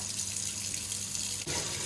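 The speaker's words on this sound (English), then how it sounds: "Let's add some water." Water pours from a tap into a paper maker tub with a steady close splashing rush, with a brief dip and change in tone just before the end.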